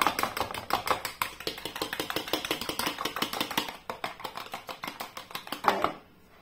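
A single large egg is beaten by hand in a bowl for a flourless, sugar-free chocolate sponge cake: rapid, even whisking clicks repeat close and steady for several seconds, then stop abruptly.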